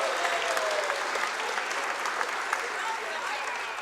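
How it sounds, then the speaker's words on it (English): Steady applause from an audience at an outdoor Alberta independence gathering in Morinville, honoring a troupe of flag dancers; dense, sustained clapping holds evenly for several seconds with a faint murmur of voices underneath. "dancers a round of applause."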